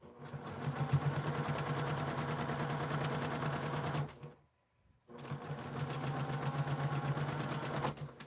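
Sewing machine running steadily while stitching quilt seams, a close, even mechanical hum with a rapid needle rhythm, stopping briefly for under a second before restarting.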